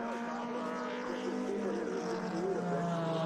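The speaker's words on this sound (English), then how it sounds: "These engines are little, but they're mighty." Vintage 2500cc-class race cars run on track at the 2021 Monterey Reunion, their engines a steady droning whine with pitch rising and sliding, heard at moderate distance and apparently under commentary.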